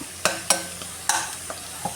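Garlic, shallots and curry leaves fry in hot oil while a spoon stirs and scrapes the pan, giving several sharp clinks over a soft continuous sizzle, with no talk.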